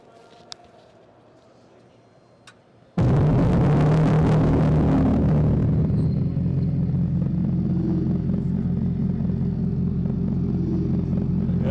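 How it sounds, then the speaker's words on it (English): An electric muscle car's artificial exhaust note, fed through an air tube rather than a speaker, bursts in loudly after near-silence and holds as a dense, rumbling drone. "electric cars now having this kind of unique sound signature, especially electric muscle cars"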